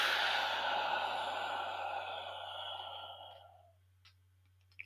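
A long, slow exhale out through the mouth during a 4-4-4 box breathing exercise, close and soft, fading out over about four seconds, followed by quiet with a faint click or two.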